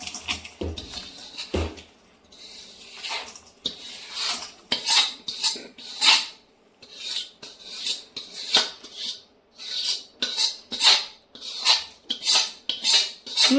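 Adadiya pak mixture is scraped out into a kadai with a metal spoon: a steady run of rasping, clinking strokes, close and fairly loud, repeated in quick bursts.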